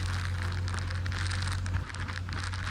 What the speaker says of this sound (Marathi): मित्रांनो इकडं भरपूर पाऊस जोरात चालू आहेत